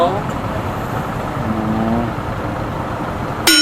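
A new motorcycle ridden through congested traffic, its engine droning steadily and close under the rider with a broad, rough road rumble, the note swelling slightly midway before a sharp clatter at the end.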